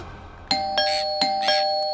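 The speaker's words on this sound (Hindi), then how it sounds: "कोई घंटी बजा रहा है और तुम दरवाजा नहीं खोल रहे हो?" An indoor doorbell rings in a Hindi comedy film scene, giving a loud, close ding-dong chime struck twice in quick pairs with ringing tones sustained underneath.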